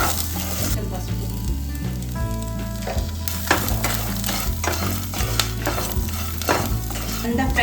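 Ingredients for gutti bandakaya fry sizzle steadily in a hot pan while being stirred, a loud continuous frying hiss with occasional scraping stirs and no talking.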